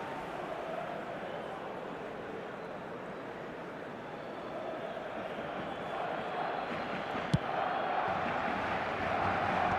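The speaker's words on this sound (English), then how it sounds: "it certainly got the crowd going" Stadium crowd roaring and cheering in an eFootball match, a steady, dense wash of distant voices that swells slightly toward the end, with one sharp click partway through.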